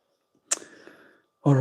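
A single short sneeze bursts out, followed by a quiet trailing breath, then a voice begins speaking.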